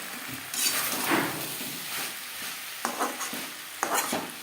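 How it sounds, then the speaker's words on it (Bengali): Potato and pointed gourd fry with spices in a pan over low to medium flame, with repeated stirring scrapes, soft sizzling and a few sharp utensil clinks against the pan, close and clear. "মশলার সাথে আলু পটল কষাবো লচু টু মিডিয়াম ফ্লেমে"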